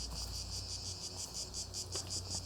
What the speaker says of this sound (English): They're cicadas.